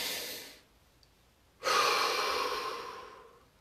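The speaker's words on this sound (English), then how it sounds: "Take a deep breath." A deep breath drawn during a guided body-awareness relaxation practice: a soft, faint exhale fades out, then after a short quiet a fuller, longer breath of air swells in and slowly tapers, close and alone.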